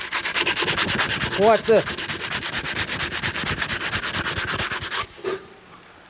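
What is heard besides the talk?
sanding cast iron water pump with 40 grit sandpaper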